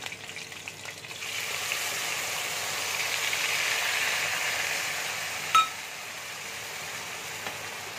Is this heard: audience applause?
no